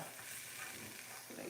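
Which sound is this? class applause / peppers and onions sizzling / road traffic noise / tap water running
peppers and onions sizzling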